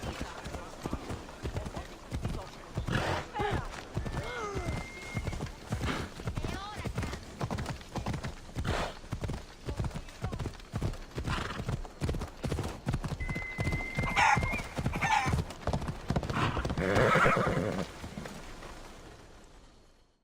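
A horse in the video game Assassin's Creed Odyssey gallops with a fast steady drumming of hoofbeats and gives whinnies and snorts along the way, close and loud, with occasional voices underneath.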